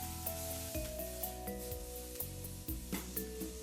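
Lamb and sliced parboiled potatoes sear in a hot pan, giving a continuous close sizzle with occasional scraping and stirring, over a light musical background with no speech.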